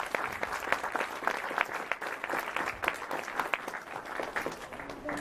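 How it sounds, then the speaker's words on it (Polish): Audience applause for performers at a winter-break show at a cultural centre, a steady wash of many hands clapping with sharp individual claps standing out throughout, moderately loud and without talk. "tym większe brawa bardzo proszę dla wszystkich występujących dzisiaj"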